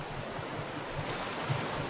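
Storm waves and wind at sea in the survival game Raft, a dense, continuous roar of surf and gusting wind with low rumbling swells, no voices.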